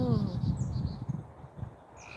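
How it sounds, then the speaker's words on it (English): A tree frog calls outdoors with a rapid, pulsing croak that repeats through the moment, fairly faint against open-air ambience, with a bird or two chirping high above it. "That's a tree frog making that noise."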